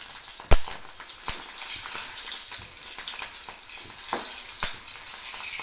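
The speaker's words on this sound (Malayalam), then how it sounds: "പച്ചമുളക് വറുത്തിടണം. ഒന്ന് പൊരിച്ചിട്ട് അതിൽ താക്കാനാണ്." Green chillies fry in a hot pan for a Kerala Onam feast dish, giving a steady close sizzle and crackle with a few sharp pops and scrapes of a utensil, and no voices.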